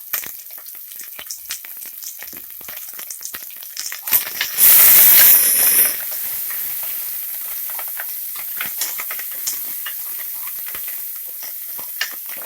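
Onions, curry leaves and a pinch of asafoetida frying in a pan after mustard and cumin seeds have popped, giving a constant close sizzle that bursts into a loud hiss for a couple of seconds, then settles back, with crackles throughout.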